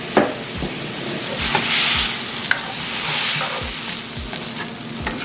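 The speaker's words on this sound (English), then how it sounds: "So just stir frying this" Steady loud sizzling of food being stir-fried in a hot pan, with scraping and clattering of a utensil stirring throughout.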